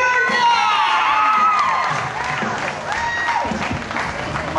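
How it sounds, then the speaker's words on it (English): Crowd at a concert opening act applauds and cheers loudly, with whoops and excited shouting over steady clapping that dips slightly midway and carries on throughout. "Give her a big round of applause."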